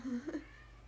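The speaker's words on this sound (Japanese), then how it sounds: "子猫も麦も泣いてる" A kitten and a cat meow indoors, one short nearby mewing call followed by a couple of brief cries, fairly faint against a quiet room.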